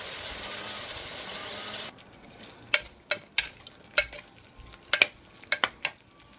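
Onions and ginger garlic paste fry in a pan for tomato rice: a hissing sizzle at first, then quieter with a run of sharp spoon taps and scrapes against the pan.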